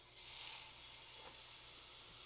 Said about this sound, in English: we're going to give our beef a quick sear here